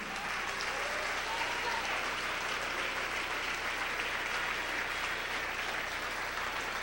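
A church congregation applauding during a sermon, a steady, even wash of many hands clapping, faint and distant throughout.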